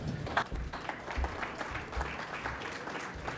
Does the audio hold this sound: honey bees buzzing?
no